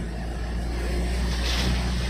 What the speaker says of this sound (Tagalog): Hirap na hirap ang makina.